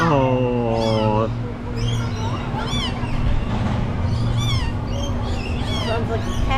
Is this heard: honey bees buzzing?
no